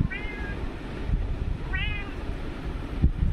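A white cat by an open window on a summer evening meows twice, two short clear cries about a second and a half apart, over a low rumbling background.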